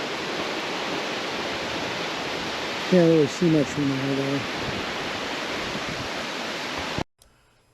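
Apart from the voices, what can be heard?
waterfall above the sacred pools at ʻOheʻo Gulch, Maui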